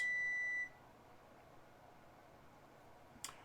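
A phone gives a clear electronic notification beep, one steady tone lasting about half a second, followed by near silence and a faint short click.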